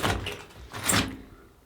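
The door of a tiny house moves twice in quick succession, a sliding rumble and then a firmer thump as it shuts, close by with no speech.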